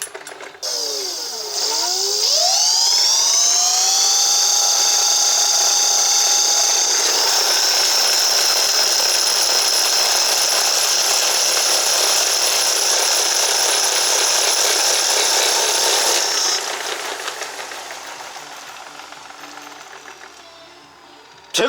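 An 11-inch electric kick scooter hub motor spins up with a rising whine, holds a loud steady high-pitched electric hum with a faint rattle for about fifteen seconds, then winds down as it coasts to a stop.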